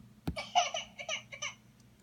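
Crybaby sound effect played from a soundboard: a short burst of whiny, babbling baby-like wailing in several choppy pulses, loud and alone with no talk over it.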